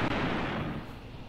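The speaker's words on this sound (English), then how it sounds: "Look at that incoming fire." Artillery and mortar rounds exploding in the tank battle game Graviteam Tactics: Mius-Front, a single muffled, rumbling blast fading away over a second, heard alone.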